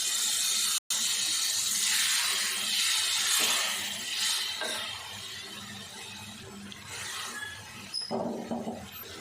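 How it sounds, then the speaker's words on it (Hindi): A steady watery hiss and sizzle as a cup of water is poured into a hot pan of spiced ridge gourd and moong dal, continuous and close, with faint clinks near the end. "अब हम 1 कप इसमें पानी डाल देंगे।"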